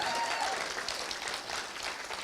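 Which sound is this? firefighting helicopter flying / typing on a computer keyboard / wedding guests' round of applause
wedding guests' round of applause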